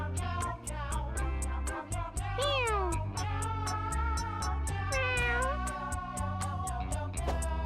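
Cartoonish cat meows from the video game Mewgenics repeat over looping game music with a steady ticking beat, several drawn-out, pitch-bending mews standing out clearly.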